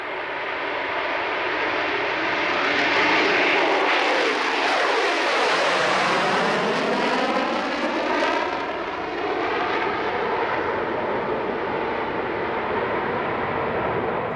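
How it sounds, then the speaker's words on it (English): A Concorde on a touch-and-go at a long runway is brought back to full power without reheat and accelerates again, a loud, continuous roaring engine rumble with a sweeping pitch shift as it passes, heard alone. "they've got to again apply full power, but this time without the reheat, and then of course the aircraft wants to accelerate again"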